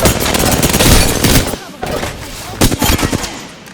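Rapid bursts of gunfire from an Apex Legends firefight, loud and close, with several sharp volleys and short gaps, mixed with in-game voice callouts.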